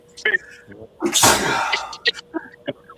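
A single loud sneeze bursts out mid-clip, followed by short spoken remarks and scattered voices around it.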